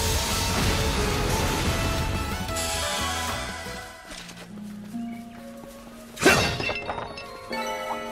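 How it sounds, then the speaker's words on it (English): An optical cannon attack in the video game Trails Through Daybreak produces dense, loud crashing and shattering effects, then quieter tonal game sounds and a sharp impact burst near the end. "Optical cannon!"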